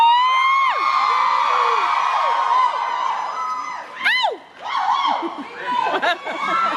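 Audience at a Supernatural fan convention panel in Dallas cheers and whoops loudly, a sustained crowd roar with high shrieks and laughter that dips briefly, then swells again in scattered bursts.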